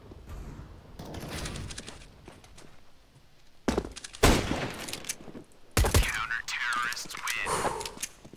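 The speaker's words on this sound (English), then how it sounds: "I am throwing a grenade" In Counter-Strike: Global Offensive a grenade bursts with sharp loud blasts amid in-game gunfire, the bangs arriving in separate bursts while players talk between them.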